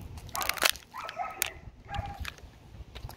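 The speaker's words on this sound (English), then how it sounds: "So if you hear any barking, that's our next door neighbor, dog." A neighbour's dog gives a few short yips and whimpering barks, fairly faint and distant, scattered over a quiet room.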